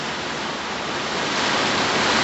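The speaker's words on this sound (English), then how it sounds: "Wicked rain though, man. You can hear it." Heavy rain roars steadily and densely, a continuous broadband hiss that swells slightly louder toward the end, with no voices.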